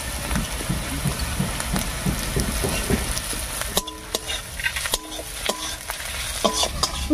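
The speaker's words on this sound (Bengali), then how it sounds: "হিংটা দিয়ে একটু নাড়িয়ে নিয়েছি" A spoon stirs asafoetida into reddened onions frying in a pan, with steady sizzling under repeated scraping and clinking strokes, growing sharper and more distinct in the second half.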